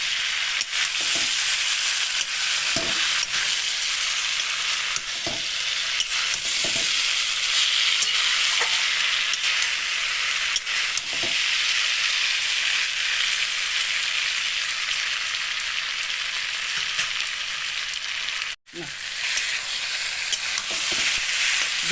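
Potatoes and okra are stir-fried in a pan under a loud, constant sizzle, with regular spatula scrapes every couple of seconds and a brief dropout near the end. No one speaks.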